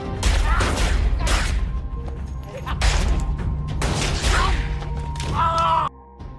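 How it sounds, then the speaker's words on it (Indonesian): Gunfire exchange in a Yakuza action film shootout with a cowboy: loud bursts of shots and crashes layered over a dense, busy soundtrack, continuous throughout with a sudden cut near the end. "anggota Yakuza ini terlibat adu tembak dengan si koboi"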